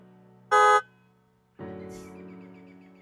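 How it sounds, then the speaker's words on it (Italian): A short, loud Tesla Model 3 Highland horn toot, then a second longer honk that holds steadily to the end; close by, with no talking. "E la parte del clacson,"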